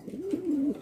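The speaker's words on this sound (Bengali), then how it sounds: "এখানে দেখতে পাচ্ছেন এক জোড়া ম্যাক্সি রেসার কবুতর" A single drawn-out coo from one of a pair of Maxi Racer pigeons, close and clear, rising and wavering over under a second.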